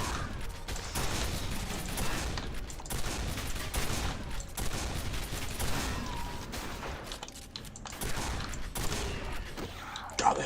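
Rapid shotgun blasts from the video game Quake 4, repeated heavy bursts in quick succession over a dense, loud game soundscape of clanks and mechanical noise.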